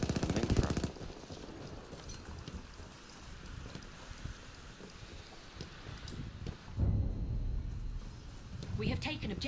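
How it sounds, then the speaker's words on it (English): Battlefield 1 gunfire, with bursts of automatic fire and scattered shots crackling under a gusty, rain-like wash. Players talk over much of it, and louder bursts arrive near the end. "Where's all this gunfire?"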